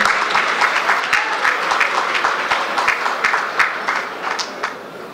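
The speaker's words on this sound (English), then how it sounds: "Let's have some real applause there." An audience at a hotel opening ceremony applauds loudly, many hands clapping in a dense, continuous stream that fades slightly toward the end.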